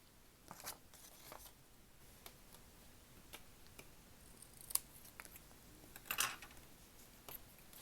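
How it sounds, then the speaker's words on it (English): Scissors snipping paper tabs at a slight angle along a fold while making a matchbook pocket folio, a series of quiet, scattered clicks and snips close by, with a slightly louder cluster of cuts near the end. "I want to trim those off by cutting just a slight angle into that fold"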